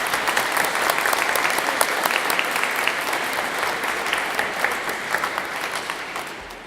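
An audience applauds steadily, a dense wash of clapping from many hands that holds for several seconds before tapering slightly.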